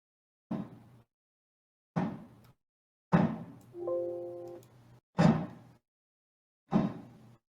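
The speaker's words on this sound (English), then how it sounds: "Sounds of banging." Five heavy, hollow bangs spaced a second or so apart, like blows on a door, with a brief ringing tone after the middle one; quiet between.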